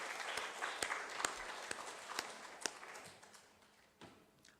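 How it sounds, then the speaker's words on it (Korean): A church congregation gives a short round of applause during a Sunday service, a faint scattered clapping with a few sharp distinct claps standing out, tapering off into quieter room noise. "우리 하나님 앞에 우리 감사와 영광의 박수 한번 올려드리겠습니다"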